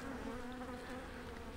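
Dense, steady buzzing of many agitated honey bees in a hive at close range, a continuous low drone with no voices.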